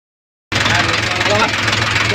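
A tractor engine bursts in after a moment of silence and runs steadily and loudly nearby, a rough continuous mechanical drone.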